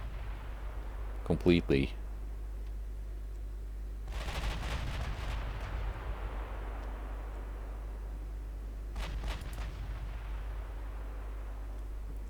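Warship twin and triple gun turrets firing in Ultimate Admiral Dreadnoughts: three separated bursts of heavy rumbling gunfire over a steady low hum, with a brief spoken word in between.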